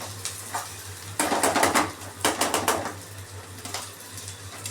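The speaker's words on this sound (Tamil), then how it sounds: "நல்லா வதக்கணும்" Food is sautéed in a pan, with bursts of stirring scrapes and clatter over a faint sizzle and a low steady hum, the spoon strokes coming in short rhythmic clusters.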